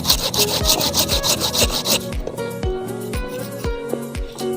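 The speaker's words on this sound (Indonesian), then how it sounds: "Bagian bawah juga ini harus dipotong." A hand saw cuts through the wooden base of a thick serut bonsai trunk in fast, even back-and-forth strokes, close and distinct. Slower, scraping strokes follow.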